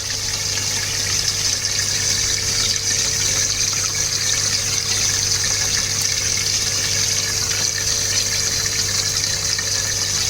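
Steady, unbroken hiss and gush of water pouring into a garden pond tank and its pipework through an open isolation valve, loud and close, with a faint low hum beneath and no voices.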